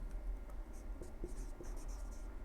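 Pen or chalk scratching out numbers for a decimal place value table in a quiet room, a few short strokes and taps close by with low background hiss.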